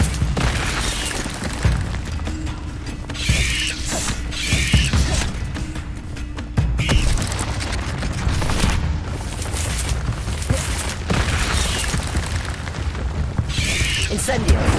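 Incendio fire spells cast repeatedly in a Hogwarts Legacy fight against spiders, bursts of fiery whooshes and booms recurring over rumbling, creaking game combat sounds, with occasional speech in the mix.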